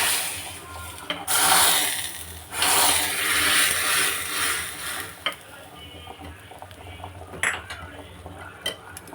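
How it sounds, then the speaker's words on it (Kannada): Cumin tempering poured into a native-style dill leaf sambar gives a loud, hissing sizzle in two strong bursts that slowly die down, with a few utensil clinks afterward. "ಈ ಒಗ್ಗರಣೆನ ಸಾಂಬಾರಿಗೆ ಹಾಕ್ತಾಯಿದ್ದೀನಿ"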